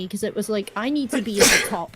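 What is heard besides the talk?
sneeze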